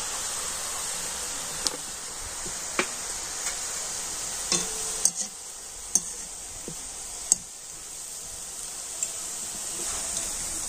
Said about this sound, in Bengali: আর এখন আমি ঝুরি ভাজা ভেজে নেব।